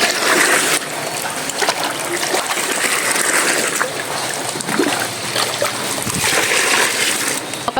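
Water spills and splashes steadily over the brims of full containers outdoors on a farm, a continuous gushing, trickling wash with brief louder surges.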